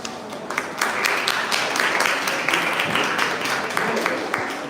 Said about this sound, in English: Clapping because it was good or because it is over?